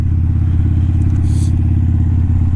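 An adventure motorcycle engine runs with a steady, close, low rumble on a quiet rural lane by a farm, with no pauses and no voices.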